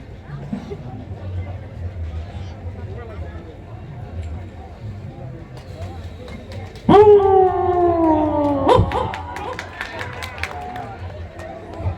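A voice imitates a Pomeranian dog on stage, giving loud whiny yelps and quick yaps over a murmuring crowd.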